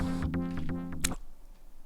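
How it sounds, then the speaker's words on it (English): A cue from the Streets of Rage video game signals a boss arriving: a quick run of bright synthesized tones ends in a sharp noisy burst, then fades into a quiet hiss. "Oh, that was the sound of a boss."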